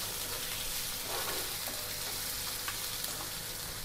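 Chopped onion sautés in a pan for poha, giving off a soft, steady sizzle that stays quiet and even throughout, with no voices.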